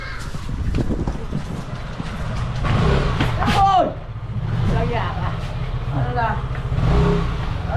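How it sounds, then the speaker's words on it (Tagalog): A motorcycle engine approaches a house, its low steady drone running throughout, mixed with crowing birds and people talking nearby. "naririnig akong motor."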